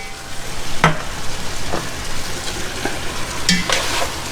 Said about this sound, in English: we can put our chicken stock or base, whatever you guys have